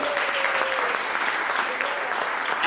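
Steady audience applause at an AGM, with dense clapping that fills the room evenly and stays loud throughout, with no voices rising above it.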